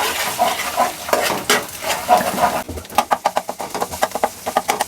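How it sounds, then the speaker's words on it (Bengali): Egg seasoned with a pinch of salt scrambling in a hot pan, a spatula scraping and stirring in quick repeated strokes over a steady sizzle, the scrapes growing sharper and more rhythmic toward the end. "এখন আমি ডিমটাকে স্ক্রাম্বল করে নিব।"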